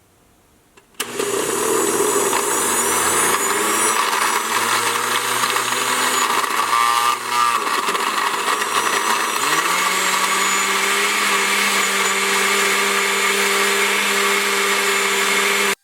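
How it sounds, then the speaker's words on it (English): An Oster 68112 countertop blender with a glass jar kicks on abruptly and runs loud and steady, its motor whine shifting pitch midway as the contents churn. "So this is the Oster 68112 blender with glass jar."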